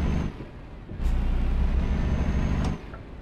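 Truck air brake from Euro Truck Simulator 2 releasing with a short hiss over a steady diesel engine idle that swells louder, then eases back near the end.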